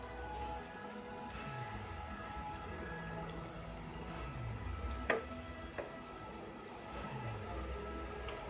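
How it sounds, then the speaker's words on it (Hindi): Onion rings frying in hot oil, a steady low bubbling sizzle throughout with a couple of sharp clinks near the middle, close and moderately loud. "ये कितने प्यारे लग रहे हैं, क्यूट लग रहे हैं फ्राई होते हुए।"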